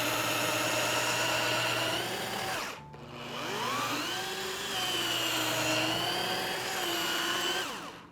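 A Cuisinart FastFreeze ice cream maker runs with a steady, loud motor whir and droning hum, pitch shifting slightly as it works, with a brief dip near the middle and no talking.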